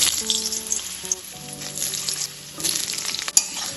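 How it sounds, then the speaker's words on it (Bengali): Cut potatoes fry in hot mustard oil, a steady close sizzle with soft crackles and a sharp pop near the end. "আলুগুলো 1 থেকে 2 মিনিট আমি একটু ভেজে নেব।"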